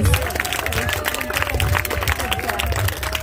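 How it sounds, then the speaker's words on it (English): An audience at a vegan festival applauds Dr. Michael Klaper with a steady, dense wash of clapping that lasts throughout, while a voice talks over it. "another giant round of applause for Dr. Klaper, please"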